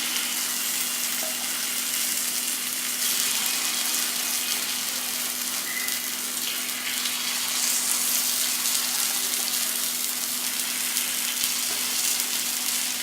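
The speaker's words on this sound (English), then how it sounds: "Just slow down the gas or the flame, and then pour the batter." Paniyaram batter hitting a hot pan on a lowered gas flame, giving a steady close sizzle and frying hiss that runs unbroken, with a faint constant hum beneath and no talking.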